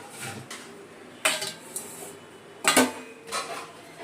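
Fried potatoes are served onto a plate in a home kitchen, with a few loud clinks and scrapes of utensils against dishes between quieter stretches.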